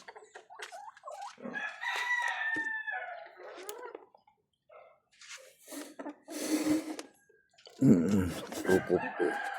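Chickens kept in a small rooftop cage, with a rooster crowing up close between bursts of clucking and softer rustling and breathy sounds, loud and separated by brief quiet gaps.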